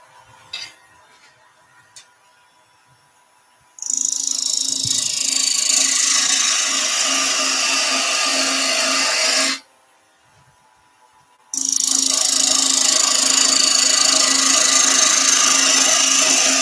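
A wood lathe makes a finishing cut on a cabriole leg, giving two loud, sustained hissing scrapes of several seconds each with a short pause between them. Before the cuts there is only a faint hum.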